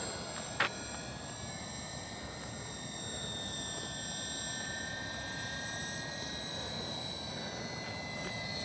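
A GWS C-130 Hercules RC model airplane flies overhead in Arvin, California, its electric propeller motors giving a steady, fairly faint whine that holds throughout against outdoor background noise.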